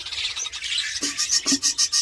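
Small young birds, newly hatched chicks kept at home, give a steady run of thin high chirps, close and fairly loud, pulsing in a quick regular rhythm with a few lower soft peeps mixed in.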